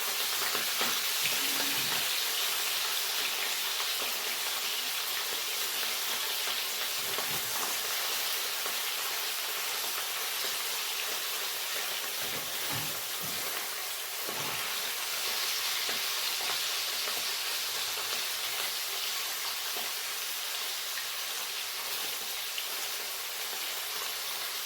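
Sausages fry steadily in a pan for a tomato-sauced potato and sausage casserole, a continuous close, even sizzle with a few soft stirring clicks and no talking.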